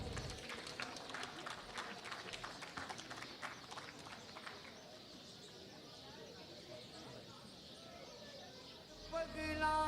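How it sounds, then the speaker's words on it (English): Audience applause for the speakers on stage at a literature festival session on Babur, a dense, steady wash of many hands clapping that fills the room and holds throughout, tapering slightly toward the end. "Let's give them a round of applause."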